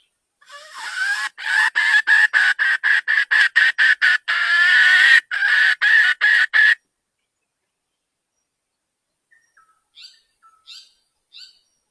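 Wild junglefowl calls during a decoy hunt: a close, loud run of rapid, evenly pulsed calls for several seconds, then silence broken by a few faint, short chirps farther off.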